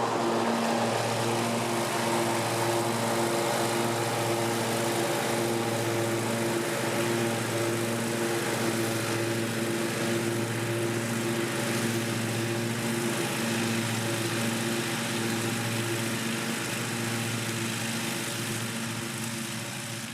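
A Cub Cadet Ultima ZT2 zero-turn mower with a 54-inch deck cuts grass at slow speed, its engine drone steady and close with a constant harmonic whine running the whole time and no voices.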